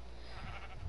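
A single short sheep bleat from the Minecraft video game, brief and fairly close.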